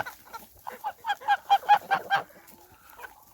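A run of about a dozen quick, rhythmic clucks from nearby hens feeding, rising and then fading, with quieter background noise afterward.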